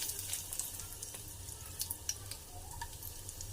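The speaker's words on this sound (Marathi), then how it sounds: "इकडे तेल छान गरम झालंय. आपण यात दालचिनी आणि तेजपत्ता टाकून घेऊया" Cinnamon and bay leaf sizzle in hot oil in a pan for chole, a soft steady fizz with light crackles and small pops, fairly quiet and close.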